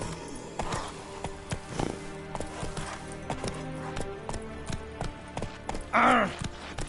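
The horse Roach gallops in The Witcher 3, with steady rhythmic hoofbeats over game ambience and a loud whinny near the end.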